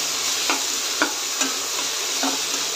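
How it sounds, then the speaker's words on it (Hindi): Garlic, ginger, chili and white onion sauté in hot oil for egg fried rice, giving a continuous close sizzle broken by rhythmic scraping stirs about every half second. "ही हमारा तेल गर्म हो गया है हम लहसुन डाल देंगे, अदरक मिर्ची, ये सफ़ेद प्याज, इस सबको 1-2 सेकेंड्स के लिए बस जस्ट इस तरह से सॉटे करेंगे।"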